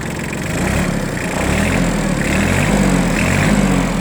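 A YANMAR AF16 mini tractor's engine runs steadily at close range, a loud, even diesel chug with a regular pulsing rhythm throughout.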